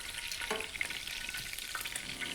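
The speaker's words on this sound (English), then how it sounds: "I'm just going to pour off all the oil that I used" Oil from frying meatballs being poured out of the pan, giving a soft, steady sizzle and trickle with faint spatter, low in level and close by.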